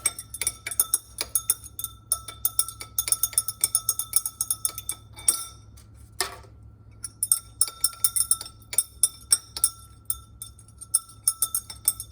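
Solution stirred in a glass, a steady run of quick, light clinks and taps of the stirrer against the glass over a low background hum, with a brief pause partway through.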